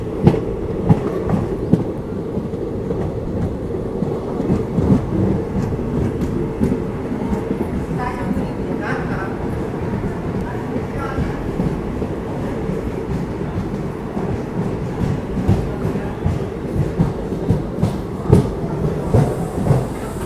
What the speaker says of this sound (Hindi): तो अपनी श्रीधाम एक्सप्रेस निकल चुकी है जबलपुर जंक्शन से